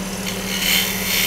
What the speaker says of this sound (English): I'm using the sweeping back side of the bowl gouge to make this.